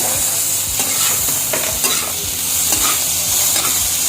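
Onions and tomatoes frying and being stirred in a pan for dahi bhindi, with a steady close sizzle and regular scraping strokes of the spoon throughout, no voices.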